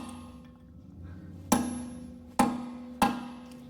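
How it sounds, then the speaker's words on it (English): A chisel bit is hammered into a metal lip during a Honda Accord front-end repair, giving three sharp, ringing metallic strikes spaced about a second apart over a quiet background. "I'll just take my chisel bit here and go ahead and hit it"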